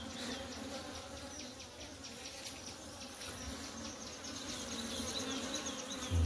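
Honeybees buzzing steadily around a hive, a dense, continuous drone of many insects close by, holding at an even level throughout.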